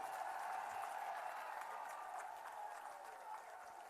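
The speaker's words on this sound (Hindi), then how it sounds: "एक बार जोरदार तालियों के साथ मनीष सिसोदिया का" A large crowd in Delhi applauds Manish Sisodia with steady, sustained clapping. It sounds distant and faint and holds evenly throughout.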